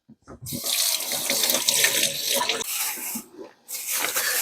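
Tap water runs steadily over leftover soup vegetables being rinsed in a sink, a close, continuous broadband gush with a brief pause near the end before the flow resumes.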